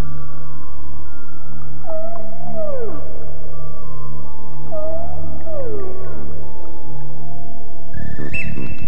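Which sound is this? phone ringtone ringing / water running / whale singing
whale singing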